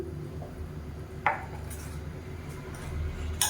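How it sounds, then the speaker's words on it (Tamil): Spoon stirring chutney in a bowl, with a couple of light clinks against the dish over a low steady background hum; no talking. "இப்போ நல்லா கலந்து விட்டுக்கலாம்"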